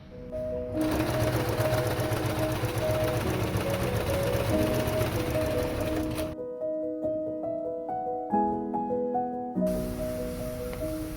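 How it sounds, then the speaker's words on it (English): A sewing machine top-stitches the fabric seat of a camping stool, a loud continuous close whir that pauses briefly before running again in short bursts. "And we'll top stitch twice."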